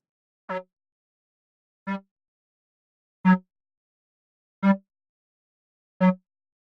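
Five short, dry synth bass notes, each a clipped plucky hit separated by about a second and a half of silence, evenly paced and fairly loud.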